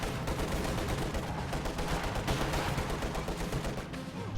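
Sustained machine gun fire rattles loudly and continuously through a war video game battle, dense bursts layered with other gunfire and no pauses across the stretch.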